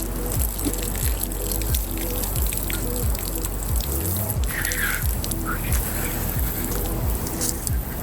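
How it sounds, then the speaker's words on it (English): Cold water runs continuously from an outdoor shower on an Intech Sol Dawn RV, a steady close hiss and trickle with faint low knocks underneath. "And I've got a shower."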